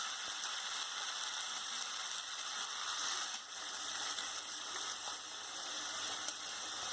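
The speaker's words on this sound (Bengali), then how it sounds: "দেন এর মধ্যে অ্যাড করব ম্যারিনেট করা পুরো চিকেনটা।" A marinated whole chicken goes into a hot pan of fried spices, including cloves, for Kolkata-style chicken rezala, giving a steady, even, close-up hiss of sizzling that holds with barely any break.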